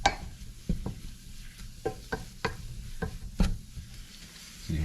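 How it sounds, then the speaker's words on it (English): Flour being stirred as it cooks in a pan, making soft scraping strokes and clicks at an irregular pace over a faint sizzle, close by with no talking. "So I'll continually stir that for about 2 minutes"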